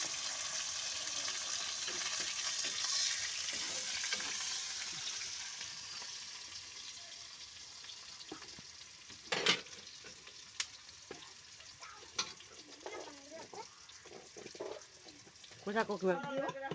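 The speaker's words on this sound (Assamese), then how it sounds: "পিঁয়াজটো দি চাওঁচোন হ'ল। পিঁয়াজ অলপ পিঁয়াজটো মানে ৰঙা হৈ লওক।" Onion frying in oil in a home kitchen gives a steady, close sizzle that fades in its second half, where sharp clinks of stirring utensils and scattered clatter break through.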